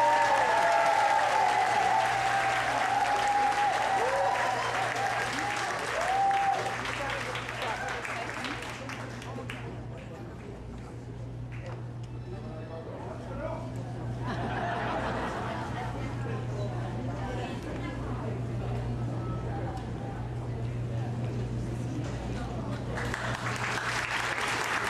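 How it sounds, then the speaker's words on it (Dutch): A party crowd in Huntington Beach, California, claps for the organisers, loud and dense at first, then thinning into scattered clapping and chatter before swelling again, over a steady low hum. "Mag ik van u allen een geweldig applaus voor Ilse Suiza en Regina Poepaert."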